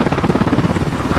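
Helicopter rotors beating loud and close during a night landing in a tight mountain landing zone, the steady rapid chop of the blades filling the air with a dense rumble.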